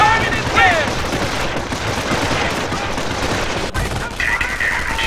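Rapid small-arms and machine-gun fire rattles continuously in a Company of Heroes World War II battle, dense and loud, with short radio-style voice lines and whistling sounds layered over the shooting.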